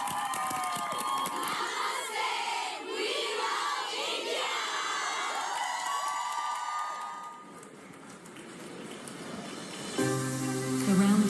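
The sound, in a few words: applause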